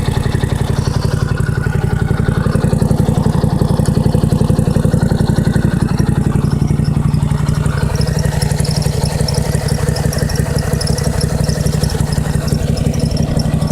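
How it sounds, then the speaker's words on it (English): An old car engine idles after a cold start, a loud, steady rhythmic chug with mechanical clatter continuing evenly close by. "I'm gonna let you guys watch the car engine go"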